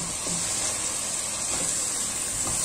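Masala fries in a karahi with a steady, close hiss and soft crackle, a continuous sizzle with no talk.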